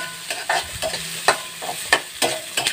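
Onion, medium size, sizzles in a pan as it is stirred, with short scraping strokes of a utensil repeating every fraction of a second over a soft frying hiss.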